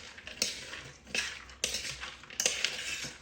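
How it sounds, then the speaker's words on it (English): A spoon stirs candied nuts coated in egg white inside a crockpot, with several scraping, clinking sweeps against the pot that come in uneven bursts, close but faint. "I'm going to give this a good stir"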